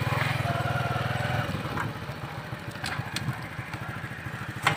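A motorcycle engine putters steadily and close by in a rough street in Quaidabad, chugging evenly and then easing back, with faint clatter and distant background sounds.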